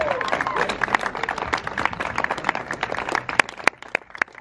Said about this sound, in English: So clap it up for you guys.